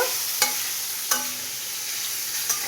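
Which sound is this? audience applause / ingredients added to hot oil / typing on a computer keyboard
ingredients added to hot oil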